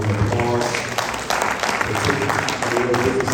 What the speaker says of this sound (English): let's give all these candidates that have come out another round of applause.